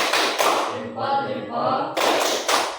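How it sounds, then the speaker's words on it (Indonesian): A classroom of students performing a rhythmic 'tepuk salut' clap, loud bursts of hand claps at the start and end with a softer patterned section of taps and thumps in between. "Mari kita sama-sama berikan tepuk salut."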